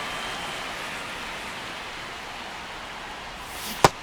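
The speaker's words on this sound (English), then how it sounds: "This rain is not letting up." Steady rain falls on a baseball stadium in MLB The Show 26 as a soft, even hiss. A short sharp knock comes near the end.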